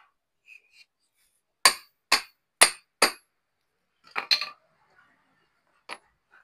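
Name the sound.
hammering out a bearing on a marble cutter machine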